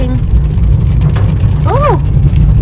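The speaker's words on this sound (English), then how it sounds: "Oh, that's is that heavy rain now?" Heavy rain pounds steadily on a car driving in the Pacific Northwest, a dense loud wash throughout, with brief voices rising and falling over it.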